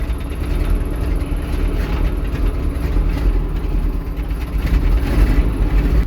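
A 1959 GMC 150 pickup truck's engine idles with a steady, rough rumble and rattling clatter, close and continuous.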